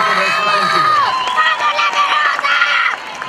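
An audience at a school parents' gala cheers, whoops and shouts with high children's voices, a loud, dense crowd roar that rises in excited bursts over about three seconds.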